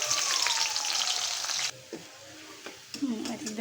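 Onion and garlic hit hot oil in a wok with a loud sizzling hiss that suddenly quiets, followed by a few scraping stirs and renewed sizzle.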